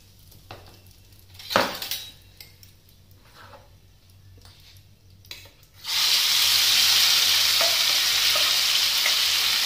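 Asafoetida dropped into hot oil in a wok: a few quiet clinks and taps come first, then a sudden loud, sustained sizzle that fills the rest of the clip.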